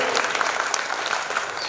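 An audience at a Hindi poetry recital about politics claps in steady, dense applause, close and loud throughout the short moment.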